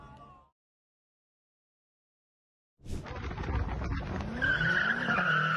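A Ford Mustang skids on the road, caught on a dashcam: after a brief silence, engine roar rises with squealing tires and a sustained high screech, loud and close.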